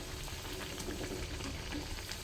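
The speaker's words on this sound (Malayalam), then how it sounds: "എണ്ണ ചൂടായിട്ടുണ്ട്. ഇനി നമുക്കിത് ഇട്ട് കൊടുക്കാം." Vada batter frying in hot oil, giving a steady, faint, continuous sizzle and crackle close by with no voices.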